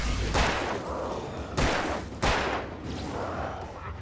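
Three loud revolver shots ring out in the Alan Wake video game, evenly spaced sharp broadband bangs each followed by a rumbling decay, with no speech.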